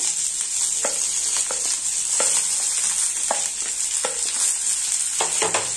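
Chopped onions sautéing in a pan, a loud steady sizzle close by with repeated scraping strokes of a spatula every second or so, no voices.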